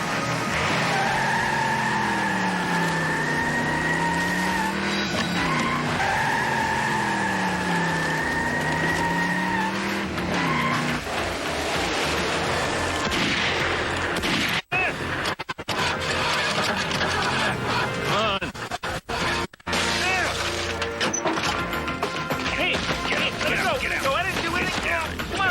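Tires squeal and skid loudly as a fleeing car loses control at a sawmill during a highway patrol pursuit, with siren wails early on and sharp crash-like breaks later, under talk.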